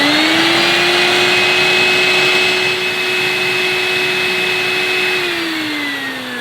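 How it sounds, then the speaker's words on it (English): Vorwerk Kobold VK117 vacuum cleaner with a small 250 watt dirty fan motor runs a sealed suction test, a loud steady whine that drops slightly in pitch as the intake seals, then rises again near the end, close by, no talking. "first we'll do a sealed suction test"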